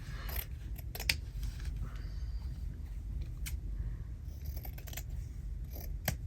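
Scissors snip through fabric in a series of crisp, close cuts scattered irregularly over a low background hum.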